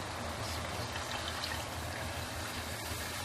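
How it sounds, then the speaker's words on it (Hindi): A little water pours into a pan of spinach and potato masala, making a steady, soft, close splashing trickle throughout. "थोड़ा सा इसमें पानी डालेंगे।"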